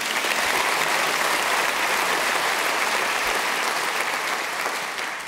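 An audience at a band's 20th-anniversary concert gives dense, continuous applause for a singer, loud and steady, fading slightly at the very end.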